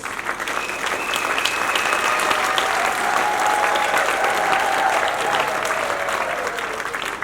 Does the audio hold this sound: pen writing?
no